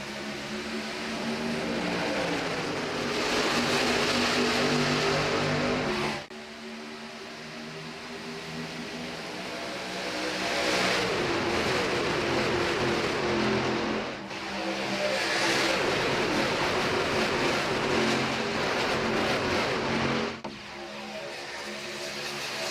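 NASCAR Truck Series trucks roar around Daytona under the lights at the race start, their loud engine noise swelling and fading in repeated waves as the pack sweeps past.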